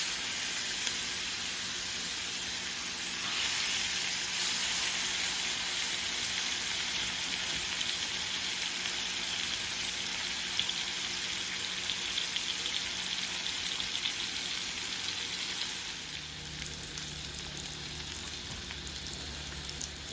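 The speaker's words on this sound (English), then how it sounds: "And you can go ahead and add your pork chops." Pork chops frying in butter and olive oil give a steady, close, loud sizzle like rain on a hot surface, continuous throughout with a slight drop in intensity near the end.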